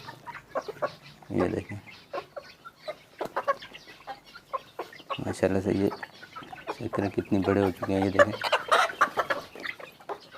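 Backyard chickens, hens and a rooster, cluck repeatedly in bursts close by, with someone speaking over and between the calls.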